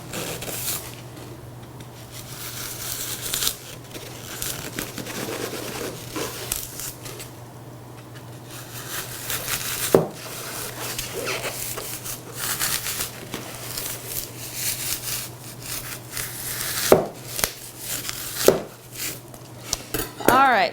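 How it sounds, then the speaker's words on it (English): A serrated knife sawing through a styrofoam block right down to the tabletop, a steady rasping scrape with a few sharp knocks and clacks as the blade strikes the table. "now we'll take the serrated knife and hopefully go all the way to the table"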